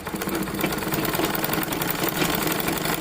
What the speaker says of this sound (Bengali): যতটা কাটা আছে তত দূর আমি সেলাই করে আসবো।